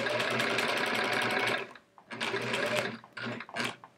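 A sewing machine stitches a sampler quilt, running in a steady, close whir for about a second and a half, then stopping and starting in short bursts.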